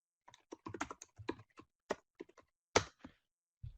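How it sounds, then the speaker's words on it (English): Typing on a computer keyboard in a quiet room, a close, irregular burst of clacking keystrokes with short pauses between them, no voices. "I'm gonna type that in the chat"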